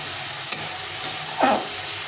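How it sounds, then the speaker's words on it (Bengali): Tomato, onion and garlic masala sautés in a pan for a pabda fish curry, a low continuous sizzle broken by a short tap and then one firm spatula scrape, close with no voices. "টমেটো পেঁয়াজ রসুন ভালো করে কষা কষা হয়ে গেছে"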